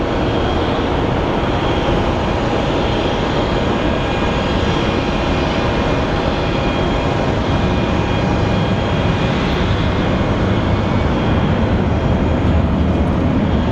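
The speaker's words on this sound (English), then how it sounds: "our little turboprop is getting there" A small turboprop airplane at Phoenix Sky Harbor Airport drones loudly and continuously, its broad engine roar holding steady with a faint tonal whine over the whole stretch, with no one talking.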